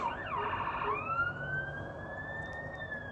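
A police siren wails outdoors at moderate distance, beginning with rapid yelping warbles and then settling into a long, steadily rising wail that holds over a constant background hum.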